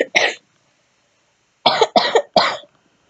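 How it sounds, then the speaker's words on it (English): One person coughing: two quick coughs, a pause of over a second, then three more sharp coughs in close succession, loud and near with silence between. "really sorry guys for all the coughing and all that"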